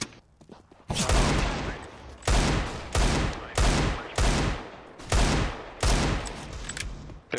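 Rapid bursts of automatic gunfire in a video game, several volleys in a row separated by short pauses, loud and close with a game-like crispness.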